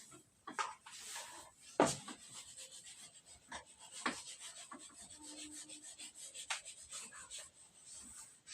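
A teacher rubs a question off a board with an eraser, giving scattered scraping strokes and soft knocks in a quiet classroom, with no talk.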